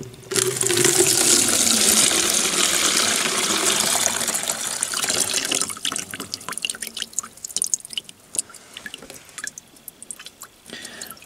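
Liquid drains from a boat's fuel filter, gushing and splashing steadily at first, then thinning into trickling and scattered drips as the flow tapers off.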